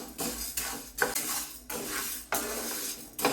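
Dosa podi ingredients roasting in a pan over low flame, a metal spoon stirring and scraping in repeated strokes roughly every second, close and moderately loud with no talking.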